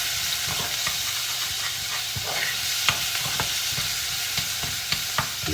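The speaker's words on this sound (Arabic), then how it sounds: "وعلى طول ننزل عليها البصل، نحمر نحمر نحمر نحمر." Onions fry in a pan for a potato and meat dish, with a dense, constant hiss of sizzling oil and soft stirring knocks scattered through it. Loud and close, with no voices.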